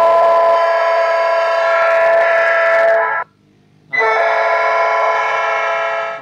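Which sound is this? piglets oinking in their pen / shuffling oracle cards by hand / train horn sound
train horn sound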